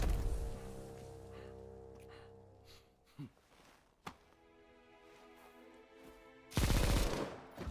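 Gunfire in a video game trailer, heard as a few isolated sharp shots and a short loud burst near the end, set against layered music and effects, with no talk.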